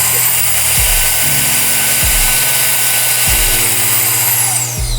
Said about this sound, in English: You can actually, change up the speeds of this air.